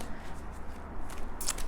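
Queen of the Moon oracle cards are shuffled by hand in quick, soft papery riffles, close and fairly quiet, with no talking.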